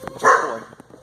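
A shelter dog at an animal shelter in Olathe lets out a single loud, close bark with a short follow-up yip, standing out clearly against a quiet background.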